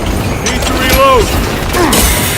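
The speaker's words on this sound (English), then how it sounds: "Need to reload!" Weapon being reloaded in the Space Marine II video game, a quick mechanical clatter and clicks with a whining tone, heard under battle noise and shouted voices.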